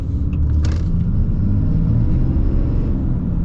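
A 2025 Ram 3500 Limited Dually pickup with an 8-speed automatic accelerates, its engine a loud, steady low rumble heard close from inside the cab, with a few faint clicks near the start.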